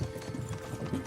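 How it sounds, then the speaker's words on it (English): Horses trotting in the video game Kingdom Come: Deliverance 2, a steady, close clip-clop of hooves with rhythmic jingling over a continuous low rumble. "don't you think maybe we could make the horses go a little faster?"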